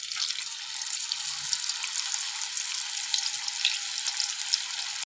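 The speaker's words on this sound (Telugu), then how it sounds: "ఇప్పుడు మన బెండకాయలు అయితే ఆయిల్లో మంచిగా ఫ్రై అయినాయి" Okra pieces deep-frying in hot oil produce a loud, dense, continuous sizzle and crackle close up, steady throughout with no talking.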